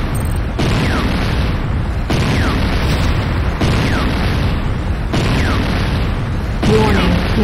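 Heavy explosion of a Nod airstrip in the video game Renegade, a broad loud booming roar sustained across the clip with repeated surges, layered with game effects and background battle noise.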